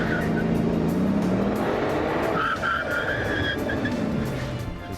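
A Bugatti Veyron supercar driving hard, with a loud continuous engine roar, rising and falling pitch through gear changes, and a squealing tire-like tone near the end.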